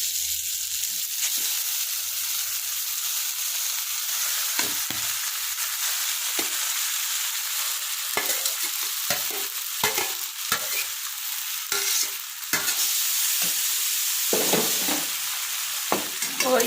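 Grated amla being stirred and roasted in a pan over a low flame, a steady soft sizzle with repeated scraping strokes of the spoon throughout, close and alone.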